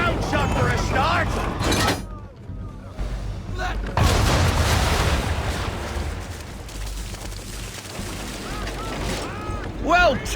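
A sailing ship fires a cannon broadside in Assassin's Creed III Remastered: deep booming blasts and a rumbling roar that fill the clip, with voices talking over the battle noise.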